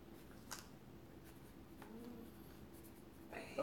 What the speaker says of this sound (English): Look, we getting ready to write it down.